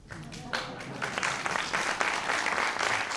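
Applause from the audience at a live French comedy press-review show rises quickly after a short pause and stays thick and sustained, close and loud, with faint voices mixed in.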